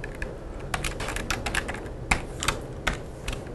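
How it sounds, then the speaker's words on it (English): Quiet clicking of a computer keyboard as text is typed into a web template, irregular keystrokes in short bursts over a low steady room hum. "or I could simply type text"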